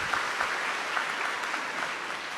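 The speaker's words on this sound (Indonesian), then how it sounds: "iringan tepuk tangan." At a stage event, an audience claps as the regent and his wife are invited up, a soft, even wash of many hands heard at a distance with no voices on top.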